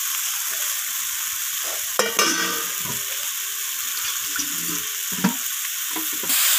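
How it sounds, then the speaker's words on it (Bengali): Coriander leaves stir-fried with spice masala for a spicy surmai fish curry sizzle steadily in hot oil, with a few scraping stirs of a spatula against the pan standing out over the constant frying hiss. "ধনিয়া পাতাটা দিয়ে আমি মশলার সাথে এইভাবে আরও একবার কষিয়ে নিচ্ছি"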